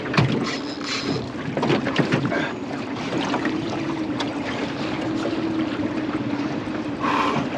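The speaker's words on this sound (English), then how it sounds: "I'm just like idling after him in the tinny." A small aluminium tinny idles on the water near Honeymoon Bay, a steady low outboard hum with wind buffeting the microphone and light splashing, no talk over it.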